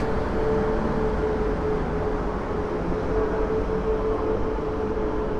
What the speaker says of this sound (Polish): Rusza Intercity Sobieski